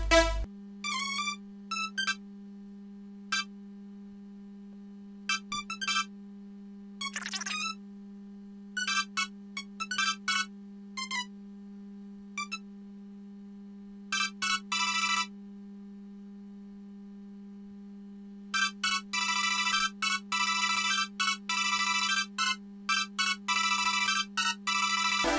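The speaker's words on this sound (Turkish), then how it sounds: "şimdi bize lazım olan şey Silent 1 ve Harmor'ın birleşimi olan Lyre," A Lyre synth patch made by layering the Silent 1 and Harmor synthesizers, built for an electronic track, plays short bright plucked notes in sparse bursts and then a denser run, over a steady low hum.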